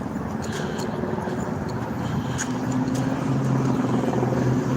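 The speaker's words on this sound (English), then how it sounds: "You can hear the choppers. I mean, there's two of them circling the city." A low drone of two helicopters circling a city hangs in the background under a steady rumble of outdoor noise, with faint clicks and a rising hum toward the end.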